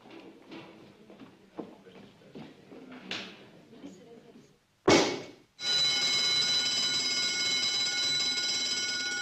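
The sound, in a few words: fire alarm ringing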